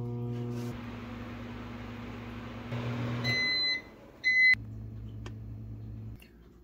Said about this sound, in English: Now it goes back into the microwave for another 30 seconds.